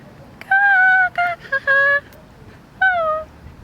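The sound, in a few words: voice imitating a crow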